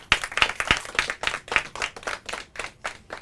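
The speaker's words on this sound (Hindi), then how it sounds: "ताली आ जाए।" Audience claps for a correct answer in a Hindi quiz round, a fairly even run of about a dozen distinct claps in a steady rhythm, a few voices joining briefly early on, moderately faint.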